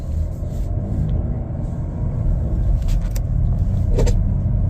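A 2024 Chevrolet Blazer 3LT on a test drive gives a steady low engine and road rumble from inside the cabin, with a few faint clicks and rattles over the top and no talking.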